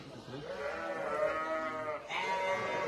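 A ewe bleats steadily during lambing on a farm, a long, wavering, harmonic-rich call lasting nearly three seconds, pausing briefly before resuming, fairly close and moderately loud.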